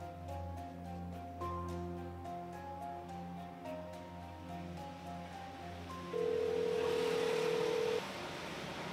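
A telephone call is placed, with a series of faint dial and ring tones repeating at a steady rhythm, then a louder sustained single tone near the end over a soft background hiss.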